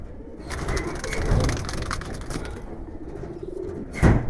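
Giribaz pigeons offered for sale coo in a low, continuous murmur across the whole stretch, with a brief flutter of wings near the end.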